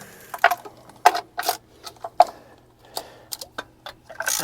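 Socket wrench working on truck bolts torqued to 300 foot-pounds on a 1976 Dodge Club Cab Adventurer, giving sharp irregular metallic clicks and short ratcheting bursts close by, with quiet gaps in between.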